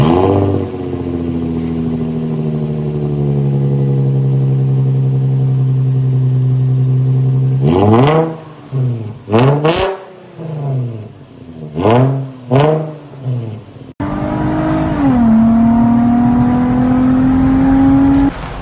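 An Infiniti G35 with its muffler deleted and a welded single-exit exhaust starts up and settles into a loud, steady idle, then fires off a series of sharp throttle blips with rises and falls, before holding a higher drone near the end.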